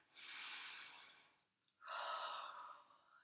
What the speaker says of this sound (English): Let's take some breaths, breathing in through the nose and out through the mouth.